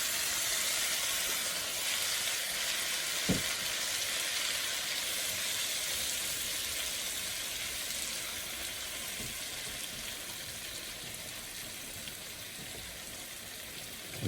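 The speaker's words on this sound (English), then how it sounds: "We're gonna take our shrimp, just add it right to the pan." Shrimp sizzle in a hot pan in a steady, moderately quiet hiss that holds for the whole stretch, with a single light knock early on and no talking.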